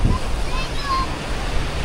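Sea waves wash steadily onto a sandy beach, stirring up the sand, producing a continuous broadband rush with some wind noise and no distinct individual breakers.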